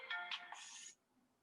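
A phone ringtone chirps in a quick electronic melody of a few bright tones, clear and close, then stops abruptly, leaving quiet room tone.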